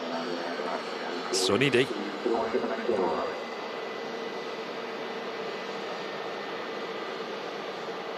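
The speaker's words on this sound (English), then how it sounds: "Jet2 A321 heading out to Fuerteventura." A Jet2 Airbus A321 departing Manchester Airport for Fuerteventura produces a steady, broad distant jet roar throughout, with brief talking over it near the start.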